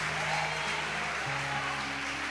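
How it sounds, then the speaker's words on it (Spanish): Applause from a church congregation during a Spanish-language sermon, a steady dense clapping that fills the whole stretch at moderate loudness with no talk over it. "Dale un fuerte aplauso a Él."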